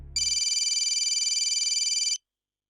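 A telephone rings in one steady electronic burst of fast warbling tone lasting about two seconds, loud and close, after a brief low rumble, then silence.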